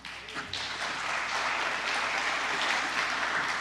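Unitarian church congregation applauding the vocalist and music team after a Sunday service, a full, steady round of clapping that swells quickly and holds evenly.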